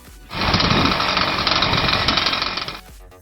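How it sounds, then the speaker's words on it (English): A homemade aircraft engine bursts into a loud, harsh, rapid rattling roar at close range, holds steady for a couple of seconds, then cuts off abruptly. "As the engines roared to life, his latest creation, Upendo, rolled forward along the makeshift runway."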